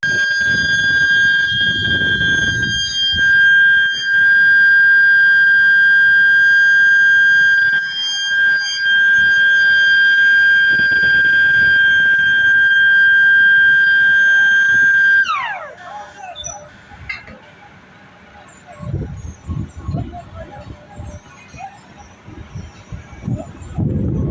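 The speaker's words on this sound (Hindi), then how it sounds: "तभी जाके ये अलार्म जो है बजता है, जैसे अब ये बज रहा है।" A loud, steady electronic alarm tone blares continuously inside an electric power plant, then cuts off with a falling pitch, leaving rumbling machinery and faint voices.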